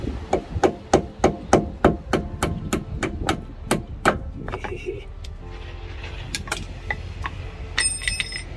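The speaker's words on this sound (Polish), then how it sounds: "Młotek i napierdalam" A hammer pounds on the wheel bearing and ABS sensor of an Audi A6 C7, a fast, even run of about a dozen loud metallic blows. Then come a few scattered knocks and quieter clattering workshop sounds.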